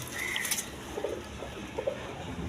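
Pigeons at a pigeon farm give a few faint, soft coos over a low background rustle, with no one speaking.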